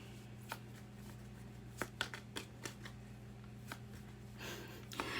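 A deck of tarot cards being shuffled by hand, with several crisp riffling snaps and flicks spaced irregularly over a faint steady background hum, close and fairly quiet.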